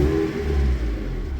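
A VAZ 2112 car engine with a new mass air flow sensor, revving briefly as the gas pedal is pressed, a close steady engine hum with a slight rise and dip in pitch, no talking.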